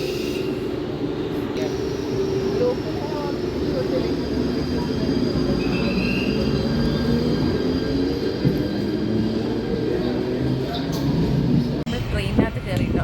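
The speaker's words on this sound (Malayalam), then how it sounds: "ലോക്കൽ ട്രെയിനാട്ടോ ഇത്" A Mumbai local train rumbles steadily and loudly close by for a sustained stretch, with clattering near the end and voices of people talking mixed into the din.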